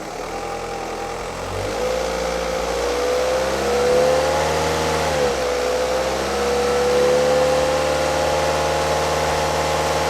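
Car engine revved and held near 2500 RPM during an alternator load test with a 12V battery tester, a steady sustained engine drone with rising pitch at the start, close and loud, no talking.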